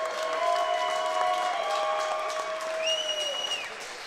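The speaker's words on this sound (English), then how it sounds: "let's give these two Spartans a giant round of applause" An arena crowd applauds two kickboxers after a title fight, a steady dense clapping with whistles and cheers rising over it, fairly loud and continuous.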